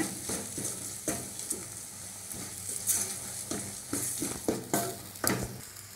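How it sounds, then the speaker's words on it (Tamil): Tomato masala with chilli powder, garam masala and coriander powder frying in a pan for tomato sambar, stirred steadily with repeated scraping strokes over a continuous sizzle, close by with no talk. "ஒரு ஒரு நிமிஷம் நல்லா கிண்டி விட்டே இருங்க"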